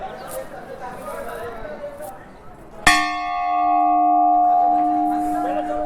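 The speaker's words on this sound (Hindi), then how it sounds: "देखिए कितनी बड़ी घंटी है" A large temple bell in Nandgaon is struck once, ringing out loudly and then humming with a long, sustained resonance, after some background talk and noise.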